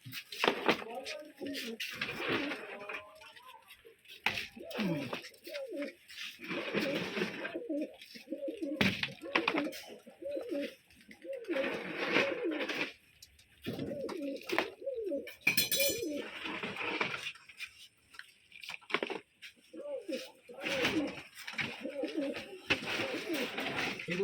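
Domestic pigeons, Rajshahi Giri birds in a loft being cleaned, coo close by in repeated soft, throaty rolling phrases, overlapping almost continuously with occasional brief pauses and faint chirps.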